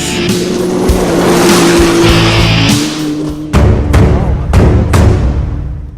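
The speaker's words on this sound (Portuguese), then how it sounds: "Encontramos este grupo fazendo rally com quadriciclos e carros esquisitos que lembram gafanhotos." Quad bikes and odd, grasshopper-like cars race in a rally, engines revving loudly and close by throughout, with sharp bursts and skids toward the end.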